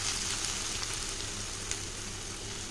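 Food frying in a pan with oil, a steady soft sizzle, faint and close, with no talking.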